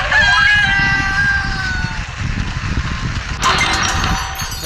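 A red chicken crows in a video game, its call a long drawn-out tone near the start, heard over a dense bed of game noise and clatter, with a brief burst of other sounds near the end.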